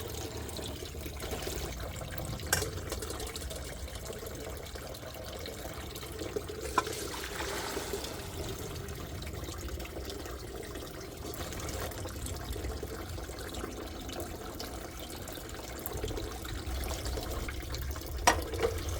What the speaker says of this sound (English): strain the water using a strainer